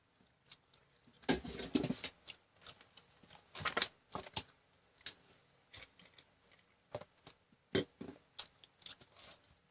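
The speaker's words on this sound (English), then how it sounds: "please bear with my chewing sound. I like gum chewing." Gum is chewed close to the microphone in a quiet room, with soft wet clicks and smacks in an irregular rhythm.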